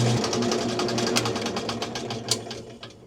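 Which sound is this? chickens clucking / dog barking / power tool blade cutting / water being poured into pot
power tool blade cutting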